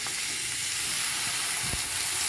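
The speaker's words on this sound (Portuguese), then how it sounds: "Agora vamos colocar as cinco berinjelas" Five chopped eggplants go into a pan of sizzling onion and garlic, giving a loud, continuous frying hiss with a brief soft thump partway through.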